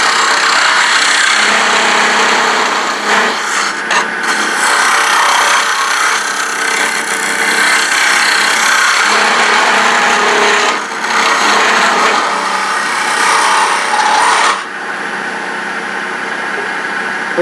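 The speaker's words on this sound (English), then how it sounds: "come in here with the detail carbide." On a woodturning lathe, a detail carbide tool cuts into spinning wood with a loud, continuous scraping hiss and rumble, close-up and sustained, with slight dips in intensity as the cut shifts.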